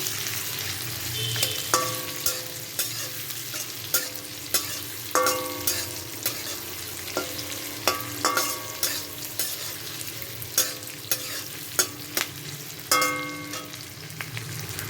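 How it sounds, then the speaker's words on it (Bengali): Chopped onion frying lightly in a pan, a steady close sizzle broken by repeated clinks and scrapes of a spatula stirring through the pieces, with no voices. "পেঁয়াজটাকে হালকা ভেজে নেব"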